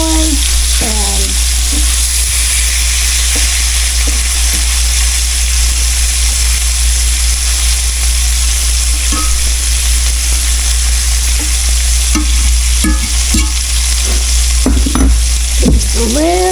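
Cubed steak frying in oil in a pan, a loud continuous sizzle with occasional scrapes and clinks of a utensil moving pieces around, steady and close throughout.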